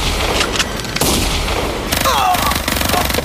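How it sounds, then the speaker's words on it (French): Bursts of gunfire in a tense robbery scene, sharp loud cracks and rapid volleys, with a shouting voice breaking in between the shots. "C'est des coups de feu."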